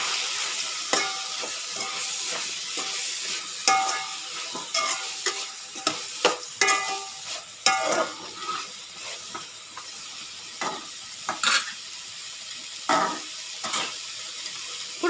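Meal maker soy chunks fry in hot oil for biryani, with a steady sizzle broken by frequent sharp scrapes and clacks of a spoon stirring against the pan.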